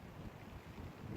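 Faint wind gusts buffet the microphone in a low, soft rumble, with no other sounds standing out.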